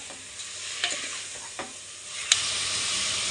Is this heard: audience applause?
no